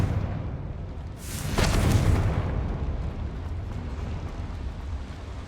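A Confringo blasting spell in Hogwarts Legacy goes off as a single loud boom, with a broad burst of noise swelling for about a second before fading into a rumbling game ambience.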